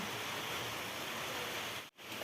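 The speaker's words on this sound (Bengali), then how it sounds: "আর এই যে বৃষ্টি হচ্ছে" Steady rain falls under a cloudy sky as an even, hissing wash that briefly drops out near the end, with no one speaking.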